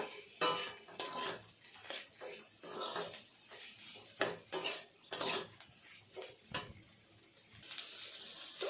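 Potatoes stir-fried with spices in a pan for a rajma dish, close clinking and scraping of a metal spoon against the pan in irregular bursts, with soft sizzling underneath.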